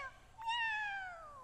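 A cartoon cat lets out a single clear, drawn-out meow with a falling pitch, close and distinct against a faint background.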